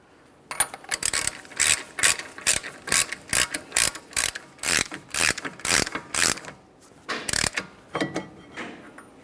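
A hand ratchet turns the front axle nut on a Toyota Sienna during a lower control arm replacement, giving a loud close series of rapid clicking bursts in uneven strokes, with brief pauses between pulls.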